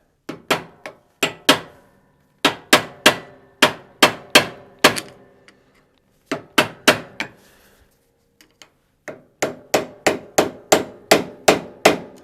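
A hammer strikes a beater screwdriver to pop the caster cap off an Exmark zero-turn mower, giving sharp metallic blows close by in quick groups of four to seven, with short pauses between groups.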